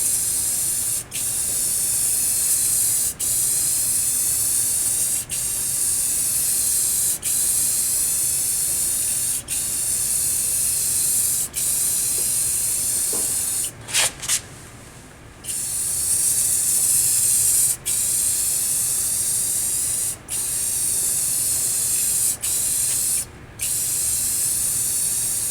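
Black spray paint hisses steadily in a thin coat onto an arcade cabinet, in short bursts separated by brief pauses, close and loud with no talk.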